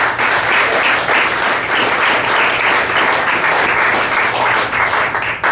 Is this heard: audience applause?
yes